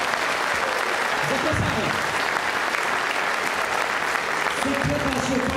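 An audience at a Law and Justice political rally in Płock applauds steadily and fairly loudly, a dense wash of clapping running throughout while an amplified speaker talks over it.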